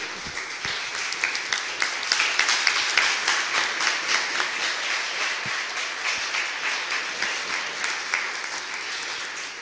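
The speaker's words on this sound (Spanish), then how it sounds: "le damos un aplauso a Roberto y a Guillermo" Sustained audience applause fills a workshop hall, dense clapping holding steady for nearly ten seconds with scattered sharper claps on top, no speech over it.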